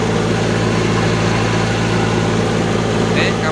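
A car engine idles steadily with its alternator wires disconnected, a constant low hum running the whole time without dying, close and fairly loud.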